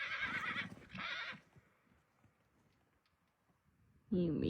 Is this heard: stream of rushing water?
no